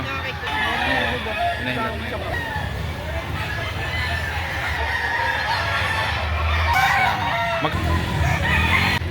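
Chickens and roosters cluck and crow at a busy poultry market in Lipa City, Batangas. The birds are loud and constant, with crowing rising over the clucking, and a vendor's voice and general market noise run underneath.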